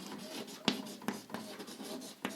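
Chalk or marker scratching across a board during a lesson, a few quiet short strokes and taps in an uneven rhythm, with no talking.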